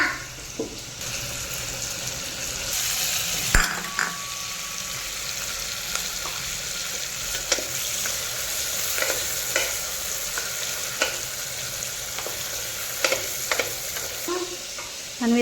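Curry leaves frying in a home kitchen pan as tomato dal is prepared, giving a steady loud sizzle with stirring clatter and a sharp scrape near the start, no talk.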